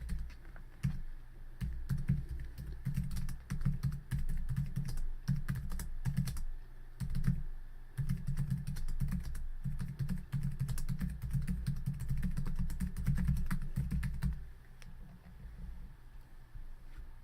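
Steady, rapid typing on a computer keyboard while writing a longer description into a web portal, continuous close clatter of keys with brief pauses, alone without speech.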